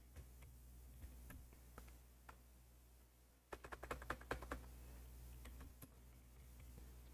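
Computer keyboard typing near a Commodore 128 setup: faint scattered key clicks, then a quick burst of crisp keystrokes in the middle before it quiets again, with no talking.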